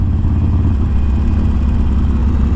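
A tuned Harley-Davidson Forty Eight with aftermarket intake and exhaust lugs at low revs around a corner, giving a steady, loud, deep rumbling engine drone that holds close and unbroken throughout.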